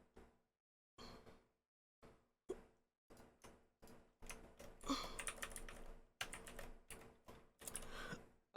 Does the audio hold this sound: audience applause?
no